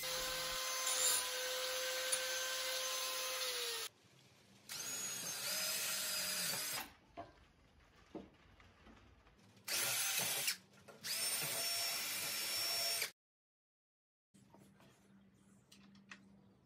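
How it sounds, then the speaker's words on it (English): A power grinder on a flip-top bench cart project, used in place of a hand file, runs in loud sustained bursts with short pauses between, then drops out near the end before a quieter, lower run. "Why use a hand file when you've got a grinder?"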